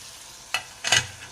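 Spices cooking in a pan over a low flame for a homemade oven-free pizza, giving a quiet background sizzle broken by two short bursts of stirring or scraping, close and alone with no talking.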